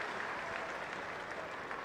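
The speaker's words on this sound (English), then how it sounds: "Crowd here at Trent Bridge have been stultified somewhat by the sunshine, but they're on their feet and applauding" Cricket crowd at Trent Bridge applauding during a sunny England v New Zealand Test match, steady distant clapping spread evenly through the whole stretch, faint and continuous with no talk over it.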